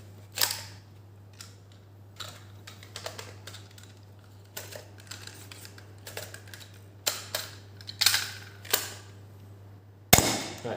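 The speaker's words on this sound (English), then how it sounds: "let's try and fire this thing as fast as possible" A DZP MK2 blaster fired as fast as possible: a string of sharp, irregularly spaced clicks and snaps, fairly close, ending with one louder crack.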